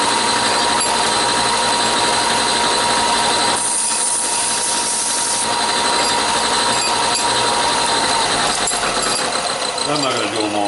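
A chop saw fitted with a brand new blade cutting metal stock, a loud, steady high-pitched whine and grinding roar that holds throughout, changing tone partway as the cut progresses, with no voices.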